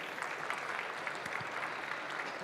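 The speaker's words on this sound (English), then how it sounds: "We can have an applause for you." Audience applause at the end of a conference talk on generative AI security: steady, dense clapping from a room of listeners, moderately distant and even in level, with no voices heard over it.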